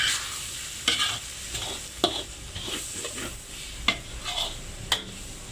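Coriander powder and spices frying slowly over low heat in a wok, with a steady soft sizzle broken by several sharp spatula scrapes and stirs, close and with no talking.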